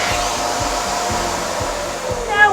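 A UWANT dog hair vacuum runs at its highest suction setting, giving a steady, loud, close whooshing airflow with a low rhythmic pulsing underneath, rising slightly near the end.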